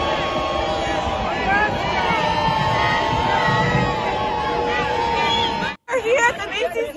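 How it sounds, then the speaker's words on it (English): Crowd noise at a pro-Palestine protest during the Macy's Thanksgiving Day Parade, a dense, steady roar of many voices with babble and shouting that cuts off abruptly near the end, followed by a brief burst of close voices. "Yeah, the crowd is booing."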